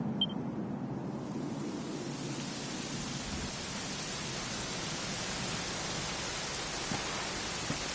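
Steady rain in the video game Dragon Quest XI pouring down without letup, a dense hiss of drops on surfaces, no voices.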